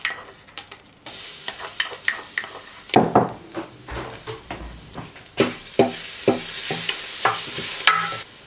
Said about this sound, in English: Sear the meat on both sides. Next, add minced garlic.